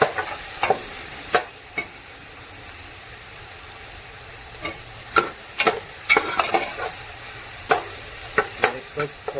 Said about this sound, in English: so we add some tomatoes here. We are sauteing nicely.